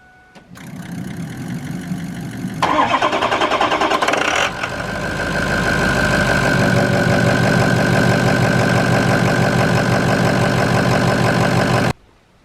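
A 2007 Ford Powerstroke diesel pickup engine fitted with an S&B cold air intake cranks and catches, then settles into a loud, steady clattering idle close by that runs on until it cuts off abruptly.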